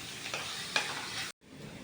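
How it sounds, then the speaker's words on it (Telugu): Onion and tomato puree frying in a pan for a Telangana-style ice apple curry, a dense, loud sizzle with stirring scrapes that cuts out abruptly near the end and then returns more quietly. "అది వేద్దాం. ఇది కొద్దిగా వేగనియండి."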